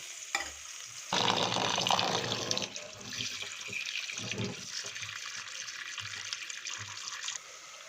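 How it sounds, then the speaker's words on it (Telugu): Water running from a kitchen tap into a sink while raw mutton is washed for a curry, a steady soft splashing stream with brief handling clatter, close and fairly quiet. "లోపు మటన్ కడుక్కొని వస్తా."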